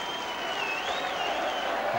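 A packed rugby league stadium crowd at a 1983 Hull versus Barrow match roars and applauds as a steady dense wash, with a high whistle-like tone wavering above it throughout.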